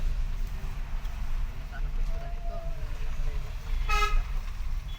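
A car horn toots briefly amid stalled traffic on a jammed road among trucks, a short honk near the end over a low engine rumble and background traffic noise.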